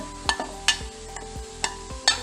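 Spices are stirred into browned onions in a pan, a spoon scraping in four or five sharp, spaced strokes over a soft, steady background.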